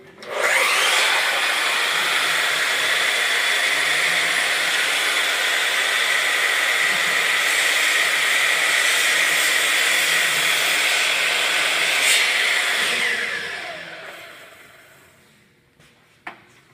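A chop saw whines steadily at full speed for several seconds, then spins down and fades, ending with a faint click.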